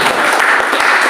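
A church congregation applauds in a steady, dense wash of clapping that holds at an even, loud level from start to finish.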